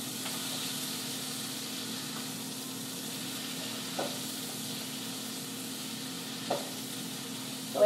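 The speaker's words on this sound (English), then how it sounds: "So as those veggies are cooking down" Chopped vegetables with spinach cooking down in a pan give off a soft, steady sizzle, faint and continuous, with a couple of light clinks and no talking.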